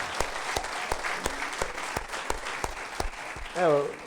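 Scattered claps ring out in a steady rhythm during a church service, a few hands applauding close by, ending with a brief voice.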